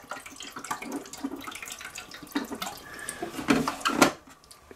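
Water pours and splashes unevenly into a container being partly filled, with gurgling bursts that grow louder toward the end before stopping.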